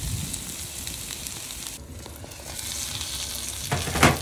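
Arbi (taro root) sabzi cooks in a pan with a continuous soft frying crackle, a brief dip partway through, then a sharper burst of sizzle and clatter near the end; no voices.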